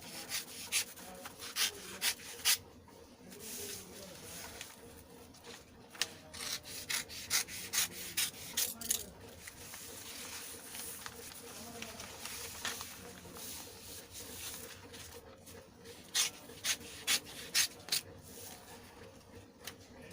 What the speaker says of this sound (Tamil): இதேமாரி கட் பண்ணி எடுத்துக்கணும்